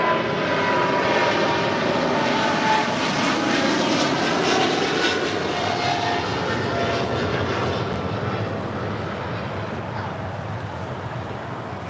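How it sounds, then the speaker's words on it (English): A Qatar Cargo Boeing 777 freighter departing for Liège gives off a powerful, sustained engine roar that holds strong and slowly fades toward the end. "This is Qatar Cargo Flight 8172 departing to Liège on a 777 freighter"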